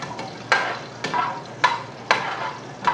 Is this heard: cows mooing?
no